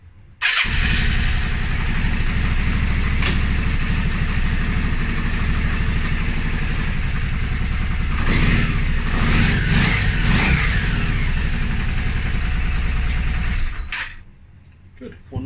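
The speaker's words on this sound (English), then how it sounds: "you'll see when I start it, I can select a gear, it doesn't stall like it did before" A motorcycle engine with a newly repaired sidestand switch, started and left idling in gear without stalling; a steady, loud idle fills nearly the whole stretch, with a brief surge midway before it cuts off near the end.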